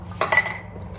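A small spoon clinks against a cup twice as a spoonful of ingredient is added, two quick bright metallic taps close by with a short ring afterward, with no voices.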